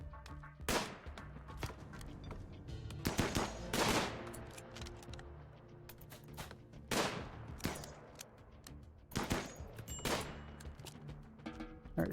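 Shotgun and bolt-rifle fire in a colony-building video game, sharp sudden blasts in irregular clusters with quieter thuds and crackles between, loud and close with no talk.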